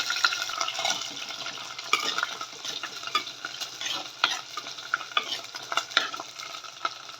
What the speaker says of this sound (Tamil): அடுத்து வெள்ளைப்பூடு போட்டுக்கலாம் ரெண்டும் கொஞ்சம் நல்லா வதங்கட்டும்